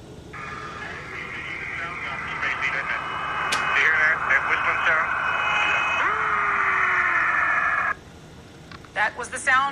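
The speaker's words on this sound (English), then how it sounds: "NASA says they believe what they heard was radio interference." Eerie warbling radio interference from the 1969 Apollo 10 mission, a wavering whistling tone with sliding pitch over a hissy background, ending with brief chirping bursts.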